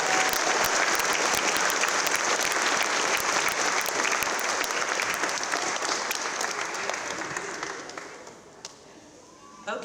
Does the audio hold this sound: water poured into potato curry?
no